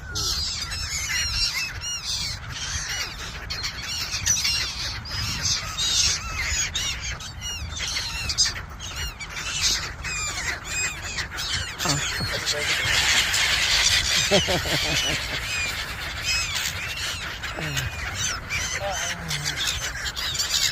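Many birds being fed squawk and squeal in a busy, overlapping chorus close by, with people talking underneath throughout.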